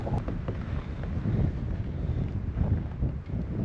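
Strong wind in a blizzard buffets the microphone with a constant low rumble and gusty surges, loud and unbroken throughout.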